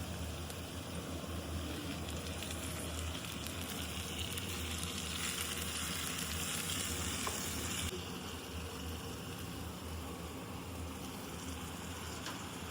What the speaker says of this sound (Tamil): அதுக்குள்ள வெங்காயமும் வதங்கிடுச்சு. இது கூட நம்ம சாப் பண்ணி வச்சிருந்த தக்காளியும் போட்டுக்கலாம்.